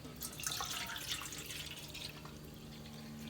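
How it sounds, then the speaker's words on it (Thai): Water poured into a cooking pot of herb-simmered chicken: a faint, continuous splashing trickle with a soft low hum beneath, fairly quiet and alone. "เราก็จะเอาน้ำมาใส่เป็นน้ำที่สองวันนี้"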